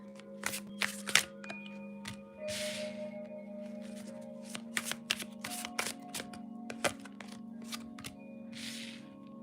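Tarot cards shuffled by hand, up close: repeated quick riffles and flicks of the deck with short pauses between bursts, over a faint steady background hum, no talking.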